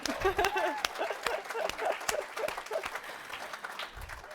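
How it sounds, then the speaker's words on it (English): Audience applause at a conference's opening remarks, with dense clapping and scattered sharp claps, fairly loud and sustained, tapering slightly toward the end. "Round of applause for that"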